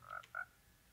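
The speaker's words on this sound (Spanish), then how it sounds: "Ah, una rana." A frog in Minecraft gives two short, faint croaks in quick succession, heard alone against quiet ambience.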